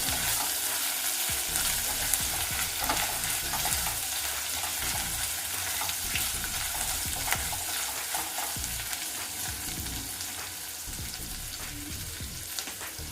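Biryani ingredients with mint are stirred and mixed in a hot pan, a continuous soft sizzle with repeated scraping strokes close up and no talk.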